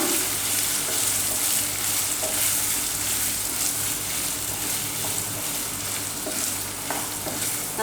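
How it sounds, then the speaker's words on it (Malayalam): Mutton liver frying in ghee in a pan, with a continuous loud hiss and crackle and faint stirring scrapes underneath, steady from start to end and heard close up without voices. "ഇനി നന്നായിട്ട് ഫ്രൈ ചെയ്തെടുക്കാം"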